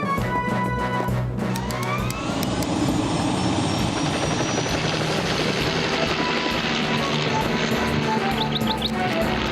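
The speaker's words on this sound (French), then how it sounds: "Je prends l'hélicoptère." A cartoon mountain-rescue helicopter starts up and flies, a loud, close, steady rotor chop and engine whine that rises in pitch and then holds strong, with a faint siren-like tone near the start.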